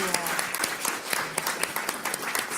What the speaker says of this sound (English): So you can give them a little applause before I pray.